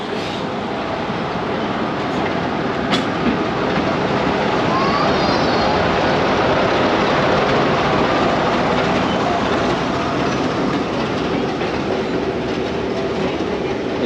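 A train pulls into a station, its steady broadband rumble and wheel-on-rail clatter filling the whole stretch, loud and close with no talk over it; the setting is a heritage railway at Butterley.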